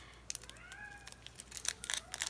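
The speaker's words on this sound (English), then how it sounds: "the cats are trilling. They're talking to each other." Kittens trill softly to each other indoors: a couple of faint, brief rising chirps over quiet rustling and crinkling.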